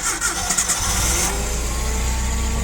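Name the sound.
Komatsu FG20 gasoline forklift engine starting in cold weather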